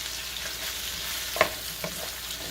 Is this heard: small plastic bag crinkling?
no